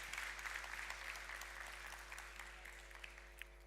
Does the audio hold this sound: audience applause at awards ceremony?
yes